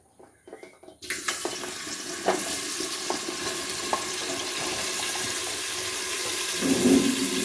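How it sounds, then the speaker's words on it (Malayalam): Vegetables hit hot sunflower oil in a pan with a sudden loud burst of sizzling after a brief quiet moment, then a continuous crackling fry with a few knocks of stirring, close up. "അതിലേക്ക് സൺഫ്ലവർ ഓയിൽ ഒഴിച്ച് കൊടുത്തിട്ടുണ്ട്. അതിലേക്ക് നമ്മുടെ ഈ വെജിറ്റബിൾസ് എല്ലാം കൂടി അങ്ങ് തട്ടിയിട്ടേക്കുക."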